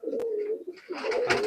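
Golden Pakistani pigeons, a breeding pair, give close, resonant coos, a steady humming call that dips, breaks briefly and swells again with a rougher, louder burst at the end.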